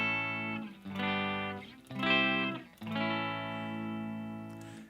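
Clean electric guitar chords ring out in three sustained strums with a gap between each, bright and full, with no voices.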